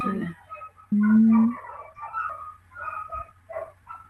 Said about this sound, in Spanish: Mirá los perros, como ladran.